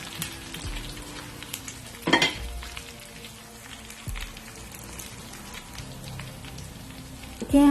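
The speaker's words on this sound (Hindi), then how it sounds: "मैं दाल के ऊपर टेम्परिंग करूंगी" Cumin seed tempering for chana dal and brinjal sizzles as a steady crackling hiss in hot oil over dal, with a sharper burst of spattering partway through and another at the end.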